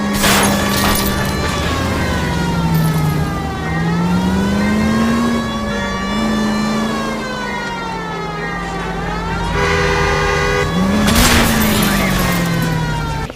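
Car driving in a 1940s-era detective video game during a chase, with a loud, steady engine note rising and falling under a wailing siren that persists throughout, with brief voice-like sounds mixed in.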